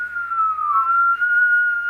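A person tries to whistle, producing a single sustained, fairly loud whistled tone that wavers and dips slightly in pitch for about two seconds, with no talking over it.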